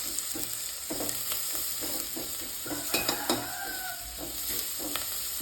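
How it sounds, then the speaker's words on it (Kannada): Turmeric powder sizzling in hot oil in a pan while fish curry masala is being made, a steady close fry with repeated stirring scrapes and light clinks of a spoon against the pan. "ಜಾಸ್ತಿ ಫ್ರೈ ಆಗಬೇಕಂತಿಲ್ಲ, ಸ್ವಲ್ಪ ಫ್ರೈ ಆದರೆ ಸಾಕು."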